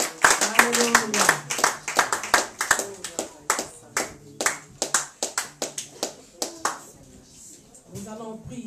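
A church congregation claps rhythmically in acclaim of Jesus, a dense run of sharp, close handclaps that carries on for several seconds, with singing or voices woven through and under it.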